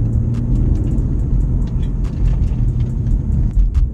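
A 2020 BMW M4 engine rumbles steadily from inside the car while driving in sport mode, a continuous low drone with faint clicks and ticks scattered over it.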